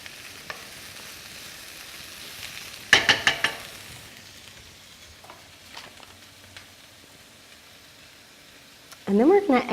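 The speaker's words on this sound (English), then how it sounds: "We just want to saute this a bit more to let the carrots soften a little bit" Carrots and mixed vegetables sauté in a pan for pad thai, giving a low steady sizzle broken by a few short bursts of stirring and scraping, with a louder clatter at the end.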